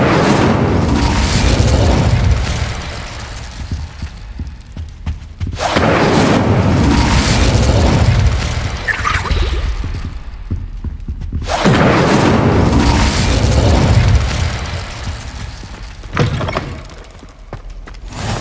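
Incendio fire spells blast repeatedly in Hogwarts Legacy, heavy booming bursts roughly every five to six seconds, each swelling loud and then trailing into a rumbling decay with no voices.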